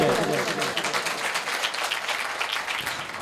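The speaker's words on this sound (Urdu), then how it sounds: "زوردار تالیاں بجائیں" Church congregation clapping loudly and continuously during a sermon, a dense steady patter of many hands with voices mixed in.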